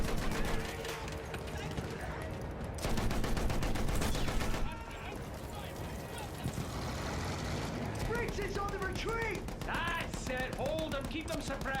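Sustained suppressing gunfire from the Battlefield 1 video game, rapid bursts and dense volleys of rifle and machine-gun fire with battlefield clatter under shouted game voices and orchestral music.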